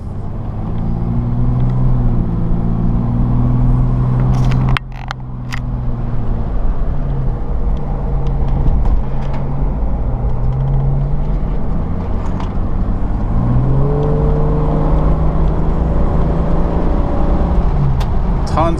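A 1992 Jeep Cherokee engine rumbles steadily up close, its low drone shifting pitch as it revs and settles, loud and continuous throughout.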